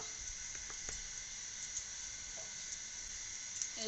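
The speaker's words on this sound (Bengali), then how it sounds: "এই যে কড়াইয়ে আমি সর্ষের তেলটা দিচ্ছি," Mustard oil sizzling in a wok, a steady bright hiss with a few soft clicks and pops scattered through it, close and continuous with no talking.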